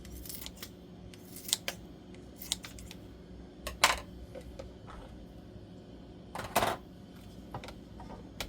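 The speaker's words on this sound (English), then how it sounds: "I'll just take my scissors and just shred those right up." Sharp, intermittent snips of scissors cutting up cucumbers in a quiet room, a few clusters of crisp cuts separated by pauses.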